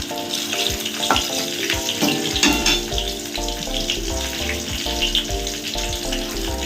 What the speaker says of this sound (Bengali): এরপর পাঁচ ফোড়নটা দিয়ে দেবো